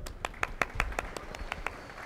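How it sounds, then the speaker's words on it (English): Scattered, sparse clapping at a high school graduation ceremony, a handful of distinct claps in an irregular rhythm, fairly faint and close. "Cue applause."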